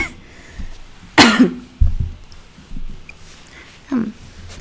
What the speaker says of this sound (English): Let me just cough because my coughing is like going shit and shit.